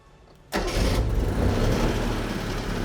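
Engine of the first Honda car in the U.S., a restored small car, cranks and fires after half a second of quiet, then settles into a loud, steady idle up close.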